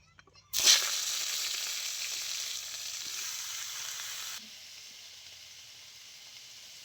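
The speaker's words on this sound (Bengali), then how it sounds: "এবারে আমি লাউ ডাঁটা আলু হালকা কষিয়ে নেব।" Bottle gourd stems and potato dropped into hot mustard oil in a wok to sauté, bursting into a sudden loud sizzle that settles into a steady hiss, then drops to a quieter frying sound near the end.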